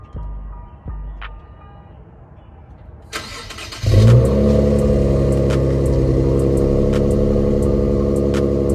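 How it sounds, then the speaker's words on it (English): Infiniti Q50 with a non-resonated axle-back exhaust starts after some quiet handling noises, then settles into a loud, close, steady raspy idle that holds to the end. "that's what it sounds like right now with just the non-resonated axle back"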